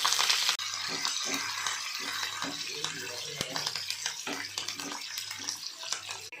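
Cumin, garlic cloves, dried red chillies and curry leaves crackle and sizzle in hot oil for a tempering, a loud hiss at first settling into steady spitting with clinks of stirring, close up.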